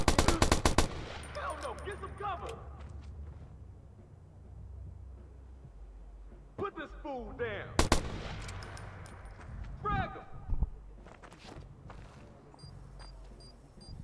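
Scattered gunfire and a grenade blast in the open-world game Watch Dogs, with sharp loud reports at the start and again midway, separated by quieter stretches of shots and ambient game noise.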